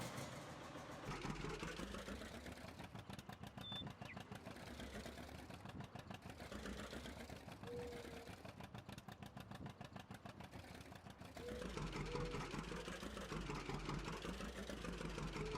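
John Deere 530 tractor engine idling in Farming Simulator 19, a steady mid-pitched rumble that holds evenly throughout and swells louder near the end, with no talking over it.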